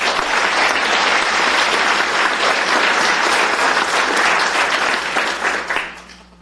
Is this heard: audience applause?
yes